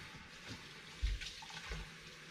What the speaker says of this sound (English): so let me run some more cold water in it